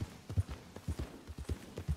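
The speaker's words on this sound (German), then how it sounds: "Mal gucken, ob ich hier geradeaus durchreiten kann." Rhythmic clip-clop of horse hooves at a steady trotting pace in Red Dead Redemption 2, fairly close, with no talking over it.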